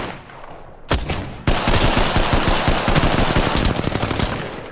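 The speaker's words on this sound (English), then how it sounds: "I am taking fire." Rapid automatic gunfire in Apex Legends, loud close bursts of densely packed shots after a single opening crack, continuing without pause and with no talk over it.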